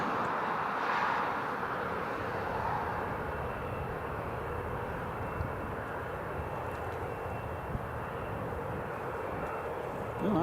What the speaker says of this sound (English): KLM City Hopper just taxiing to stand.